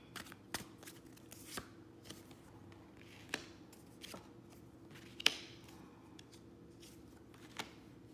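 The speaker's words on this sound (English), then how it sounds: "I'm shuffling." Reading cards are shuffled by hand close by in quiet surroundings, giving sharp, irregular riffling snaps and taps spaced a second or so apart, with no talking.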